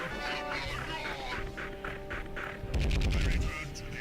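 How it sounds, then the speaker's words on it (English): An assault cannon firing in Warhammer 40k: Chaos Gate, heard as a rapid burst of heavy, rhythmic shots over steady game music and ambience. "Hey, assault cannon!"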